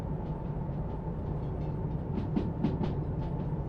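A train slowing on the rails with something in one of the cars dragging, heard from aboard as a steady low rumble with faint rhythmic clicks of wheels over rail joints, fairly quiet and without talk.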